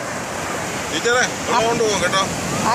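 Sea waves washing up onto Menamkulam beach in Trivandrum, a steady rushing surf with wind, while people's voices call out over the water.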